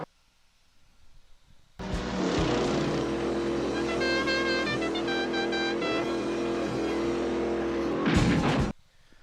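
A V8 Supercars race car at the Gold Coast 500 street race roars up close, a loud sustained engine howl with gear changes arriving abruptly and cutting off after several seconds, with no voices.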